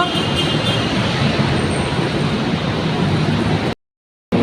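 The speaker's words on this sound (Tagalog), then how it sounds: "Gabi na, naku, ang traffic, sobrang traffic." Heavy evening road traffic in Makati, a dense continuous rumble of cars and buses close by, steady and loud before cutting to sudden silence near the end.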